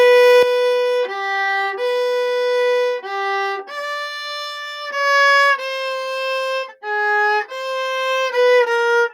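A solo cello bows a phrase from a theme, moving through several clear notes before sustaining one long held tone, then continuing with shorter notes, close and unaccompanied.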